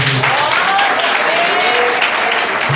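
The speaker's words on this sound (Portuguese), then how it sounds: "Vamos receber ele com palmas." Steady clapping from a church congregation welcoming a speaker, a dense wash of many hands at fairly close range, continuous and even for nearly three seconds with no voices over it.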